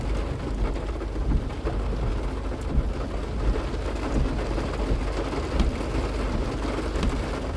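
Heavy rain pours steadily at a small half-mile track layout, a dense continuous hiss with low rumbling underneath and no voices.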